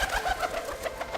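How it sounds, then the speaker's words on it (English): A pigeon flapping its wings in flight gives a rapid run of soft, whooshing beats, evenly spaced and fairly close, with no voices. "When a pigeon flaps its wings while flying, it produces a noticeable sound."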